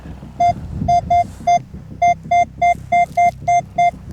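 A metal detector sweeps over a buried coin or button in a field and gives a series of clear, evenly spaced electronic beeps with a low rumble of handling noise underneath.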